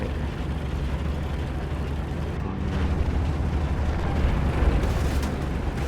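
A tank shell explodes in the video game War Thunder, a deep rumbling boom rolling through a dense, low background roar, swelling slightly in the second half as the blast's rumble lingers.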